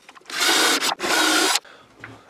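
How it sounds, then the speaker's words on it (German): Screws are driven into a wooden finger-hockey board in two loud, close bursts of a whirring, grinding tool with a brief pause between, then quieter handling noise. "Jetzt machen wir auf der anderen Seite auch noch diese beiden Schrauben da rein."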